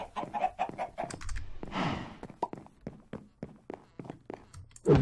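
Chickens cluck and squawk in a Sky Factory 3 Minecraft modpack game, with several short, close clucks in an uneven rhythm, a breathy sigh-like burst partway through, and soft footstep-like taps between them.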